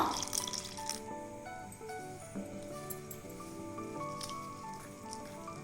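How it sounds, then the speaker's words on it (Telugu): Water trickles and drips into a bowl, followed by soft, wet squishing as a thick boondi batter is stirred and mixed, fairly quiet and close. "ఇప్పుడు కొంచెం వాటర్ పోసి కలుపుకుందాం"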